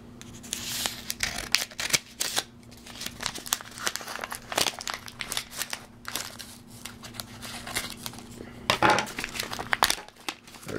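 Scissors cut open a small paper envelope holding trading cards, with steady crinkling and snipping rustles of paper close by.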